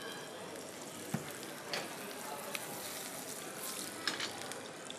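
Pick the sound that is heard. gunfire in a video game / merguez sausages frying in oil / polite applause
merguez sausages frying in oil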